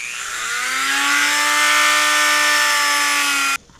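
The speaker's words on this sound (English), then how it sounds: "let's grind some foam in here real quick" A power grinder cuts into foam for a Game of Thrones dagger prop, one continuous high whine that rises as it spins up, holds loud and close for over three seconds, then stops abruptly.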